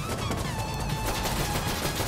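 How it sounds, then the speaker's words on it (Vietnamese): Gunfire in the tactical shooter game Insurgency: Sandstorm, a dense, continuous rattle of shots and battle noise at steady loudness throughout, with no voices. "cái thằng nào nó dùng súng bắn từng viên vậy"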